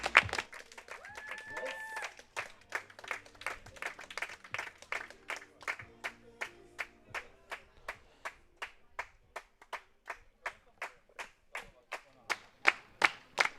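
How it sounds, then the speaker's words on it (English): Crowd at a Baseball Bundesliga game between Mannheim Tornados and Haar Disciples claps in a steady rhythmic beat, sharp regular claps accelerating slightly and continuing throughout, with a voice heard briefly at the start. "Crowd's getting excited. They want the Disciples to make something happen."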